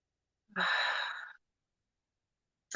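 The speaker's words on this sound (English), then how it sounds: "we're just going to start with taking 3 deep, slow breaths" A single slow, deep breath, exhaled softly and close up over several seconds as part of an evening meditation, then silence and a brief short intake at the end, with no speech.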